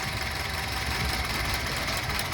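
A Honda CR-V engine idles rough and misfiring with an ignition coil pulled from a cylinder, a dense, continuous rumble with uneven knocking vibration, loud and close, with no talking.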